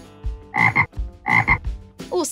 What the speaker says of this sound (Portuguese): O sapo.